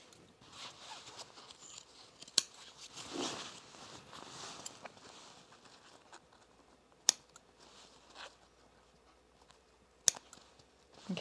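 Scissors trim quilted knit fabric for a bomber jacket in a quiet room, giving faint, intermittent snips and rustles with a few sharp clicks spaced several seconds apart.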